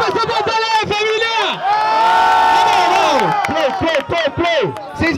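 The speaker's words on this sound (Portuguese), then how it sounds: "Ei, barulho pra essa batalha aí, família!" Crowd at a rap battle cheering and shouting loudly, whoops and yells rising into a sustained roar midway before breaking into scattered shouts again.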